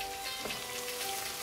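Chopped onions fry in hot oil with mustard seeds, curry leaves and green chillies for a tomato chutney, producing a steady, close crackling sizzle with no voices.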